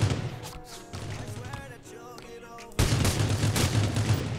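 Assault rifle gunfire in the battle royale game Rules of Survival: bursts of rapid shots, loud and close, then a dense, sustained stretch of firing near the end, with game sound effects between.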